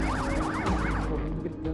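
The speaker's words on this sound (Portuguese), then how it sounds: "Bombeiros, voluntários e socorristas levam Valdinei para a ambulância sob muita chuva" Ambulance siren wailing at a rescue scene in heavy rain, a loud, close, rising and falling tone over rumbling background noise, with no talk.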